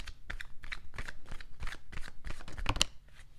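A deck of Dark Mansion Tarot cards is shuffled by hand at close range, with a series of crisp riffling bursts in a quick uneven rhythm and a sharper slap near the end.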